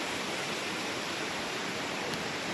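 A brook flowing in Victoria Park: a steady, dense, close rushing hiss of water, unbroken throughout with no voices.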